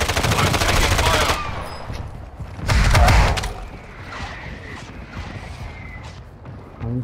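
Loud automatic gunfire in Call of Duty: Warzone opens with a rapid close burst, followed by another short burst and then quieter scattered shots and movement.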